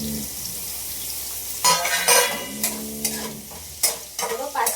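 Tomatoes go into a pan of browned onions, bringing a steady sizzle with bursts of scraping and stirring clatter from a utensil against the pan, close and moderately loud.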